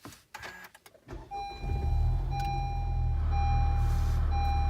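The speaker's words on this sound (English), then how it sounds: "So now we should be able to start the vehicle." A Honda car fitted with a freshly installed Hondata FlashPro cranks and fires up, settling into a steady low idle hum, while a thin electronic chime beeps on and off in the cabin after a few brief clicks and knocks.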